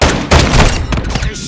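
Loud, close gunshots in the Call of Duty: Modern Warfare II video game: a heavy first blast followed by several more rapid reports with thudding low end, packed into a dense burst of combat noise.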